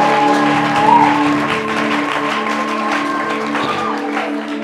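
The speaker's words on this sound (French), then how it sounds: "on peut encore applaudir." A congregation claps at a church worship gathering, steady applause mixed with some voices and a tonal hum underneath, holding fairly level throughout.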